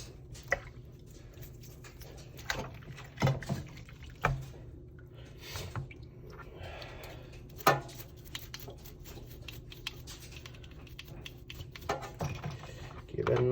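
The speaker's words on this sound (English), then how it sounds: "I'll take that brass gear and spin it around and kind of clean at the same time" A brass gear from a carp fishing reel is spun and cleaned by hand, giving soft irregular clicks, taps and small wet scrubbing sounds close to the microphone.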